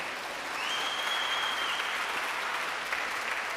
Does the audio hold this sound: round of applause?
yes